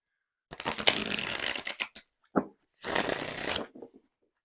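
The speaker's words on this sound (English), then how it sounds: "let's give it a quick shuffle just so you can see how it shuffles and lay it out" A bendy Sage Rabbit tarot deck being riffle shuffled nearby, with crisp fluttering bursts of cards, a short tap, then a second longer riffle, alone without talking.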